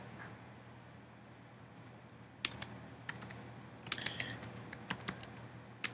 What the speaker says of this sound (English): you type your response is,